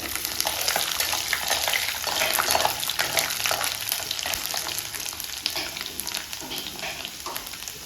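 Garlic cloves fry in hot oil in a pan for a mixed greens palya, giving a steady, close broadband sizzle with faint stirring clicks and no talking.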